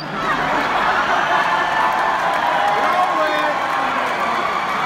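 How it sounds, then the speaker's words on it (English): A large arena audience at a concert at the Forum in Los Angeles roars and cheers in a dense, sustained wall of noise, steady and loud throughout with a few whistles and shouts on top. "That always gets a big cheer"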